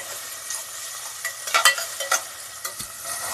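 Ingredients sautéing in oil in a pan for mutton dalcha, with a steady close sizzle broken by a series of bright spatula scrapes and clinks, clustered near the middle.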